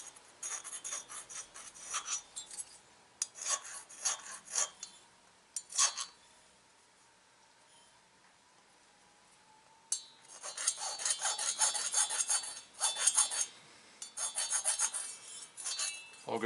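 A hand file rasps a burr off a Farmertec chainsaw cylinder in bursts of short scraping strokes separated by pauses, with a faint steady hum beneath and no talking.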